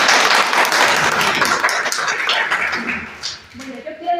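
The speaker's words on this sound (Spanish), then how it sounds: "vamos a darles un aplauso" An audience of older adults at a community center workshop claps briefly, a loud burst that thins and fades out. A voice begins speaking as the applause dies away.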